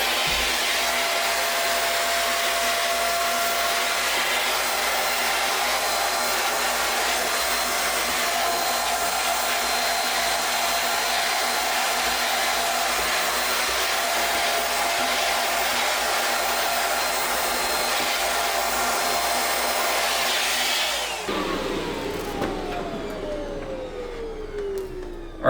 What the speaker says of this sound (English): with the suction directly from the vacuum to pick all this up